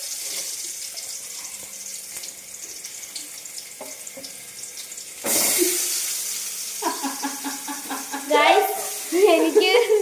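Potatoes dropped into hot boiling oil set off a sudden loud sizzling burst after a quiet stretch. The bubbling and spitting carry on close by, with some voices and squeals mixed in toward the end.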